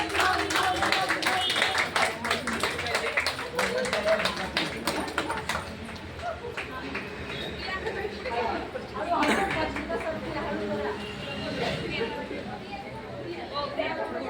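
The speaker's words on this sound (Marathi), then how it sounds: "टाळ्या" A group of people claps in quick rhythmic bursts at a festive Marathi gathering with fugdi dancing, loud at first and then thinning out, with chatter and voices mixed in throughout.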